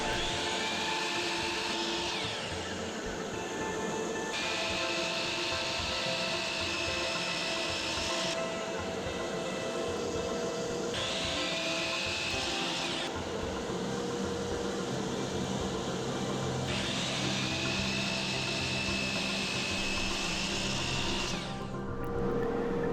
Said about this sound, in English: I moved over to the router, and I was going to go ahead and router the parts for my T-track on the bottom table